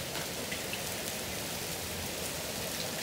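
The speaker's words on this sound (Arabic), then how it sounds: "بصوا المطر شديد ازاي؟" Heavy rain pours down steadily during an intense storm in Egypt that later turns to hail, a dense, even wash of hiss and patter that holds at constant strength throughout, with no voices.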